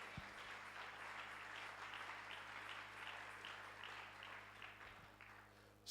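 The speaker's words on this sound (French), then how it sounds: "Est-ce qu'on peut acclamer le Seigneur?" Church congregation at a Sunday service applauding and cheering in praise, a steady dense wash of clapping filling the whole stretch with a few low thumps.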